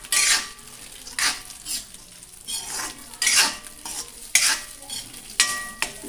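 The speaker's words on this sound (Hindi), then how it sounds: "घी गरम हो गया था, इसमें काजू डाल दिए हैं हमने फ्राई करने के लिए।" Cashews frying in hot ghee with a steady sizzle, broken by repeated sharp scraping bursts as a spoon stirs the pan; close and fairly loud, no talking.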